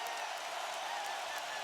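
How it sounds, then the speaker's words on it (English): A packed basketball arena crowd roars at a 2007 NBA Finals game between the San Antonio Spurs and Cleveland Cavaliers, forming a dense, steady wash of cheering that stays loud and even throughout. "Oh, this crowd is alive again."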